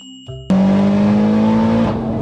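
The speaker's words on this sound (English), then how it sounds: "Nothing like turbo cars to put a smile on my face." A turbocharged 700HP Evo accelerating hard: a short idle, then a sudden loud engine roar that rises steadily in pitch for over a second before easing off, close and intense.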